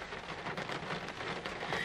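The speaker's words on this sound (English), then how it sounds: "It is, like, pouring down. It just decided that it want to rain." Heavy rain pours down outside a church in Atlanta, a dense, steady hiss of falling water with no voices.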